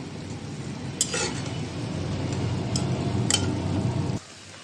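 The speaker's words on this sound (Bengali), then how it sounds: "আর এখানে টমেটো দিয়ে দিয়েছি মশলার সাথে কষাই নেব" Tomatoes frying with spices in a pan for a hilsa fish-head and tail curry, a steady close sizzle with a few sharp spatula scrapes and clinks, ending abruptly near the end.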